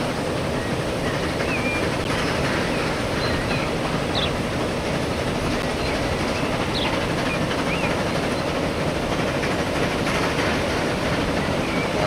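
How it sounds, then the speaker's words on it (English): Freight trains run in the video game Transport Fever 2, a continuous rumbling roll with faint clicking and occasional light squeaks, steady and unbroken with no voices. "So we currently got 5 freight trains running and 2 express trains."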